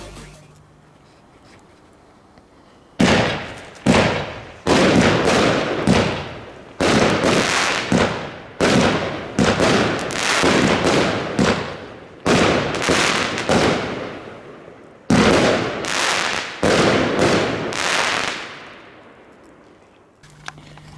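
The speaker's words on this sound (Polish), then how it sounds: "odpalamy sobie teraz taką kosteczkę i zobaczymy jak ona strzela" An ANARCHY firework cake launcher fired outdoors, a rapid string of loud, sharp shot bursts in uneven clusters, each with a short crackling decay, ending in a fading tail.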